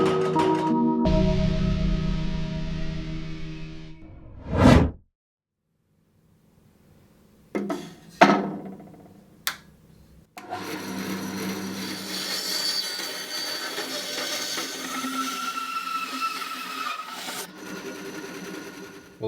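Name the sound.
milling a piece of burl timber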